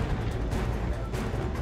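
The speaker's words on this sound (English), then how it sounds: "he's firing missiles" Missiles launching in the action game James Bond 007: Blood Stone, a dense continuous rumble of heavy booming blasts filling the whole moment, loud and close with no pauses.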